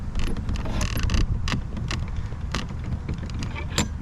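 Wooden garden door creaking and scraping as it is forced open on a frosty day, several separate sharp creaks and knocks over low rumbling handling noise, close and fairly loud.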